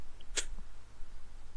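A single sharp sneeze bursts out once near the start, brief and fairly close, during a family happy birthday song, followed by quiet room tone with a faint low hum.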